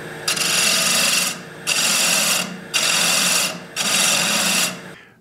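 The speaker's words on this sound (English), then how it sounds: "this quarter inch bowl gouge works really, really well as I define and kind of contour the area right there" A quarter inch bowl gouge cuts into a long-stem wooden goblet spinning on a lathe, giving four loud, steady hissing passes of about a second each with short breaks between them, heard alone without any talk.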